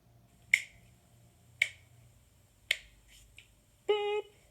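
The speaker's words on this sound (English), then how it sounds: "Here's some Mario Kart sound effect right there" Mario Kart video game sound effect: three sharp, evenly spaced clicky beeps followed by a longer, brighter sustained tone, like a race-start countdown, fairly faint and clear with no talking.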